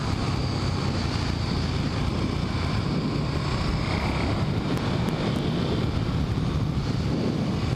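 A 2014-2015 KTM 1290 Super Duke R riding along a California road, heard as a steady, loud roar of engine and wind rush blended together throughout, with no talk.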